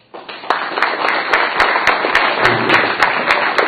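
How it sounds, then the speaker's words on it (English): Steady applause from an audience at a county candidate forum, loud and continuous with individual sharp claps standing out, no voices over it. "a round of applause again"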